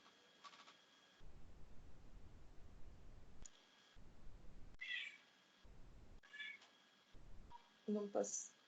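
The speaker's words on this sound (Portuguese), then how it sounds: "Cada miado da minha gata é um..." A cat meows a few times, brief cries breaking through intermittent talking and soft clicking in a quiet room.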